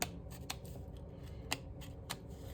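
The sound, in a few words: scissors cutting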